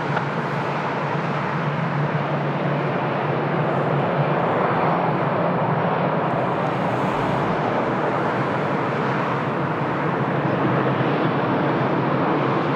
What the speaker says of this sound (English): German aircraft. I believe it's an Embraer over there